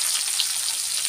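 Dried chili and bay leaf crackle in hot oil left over from frying fish, a dense, steady sizzle running loud and close with no talk.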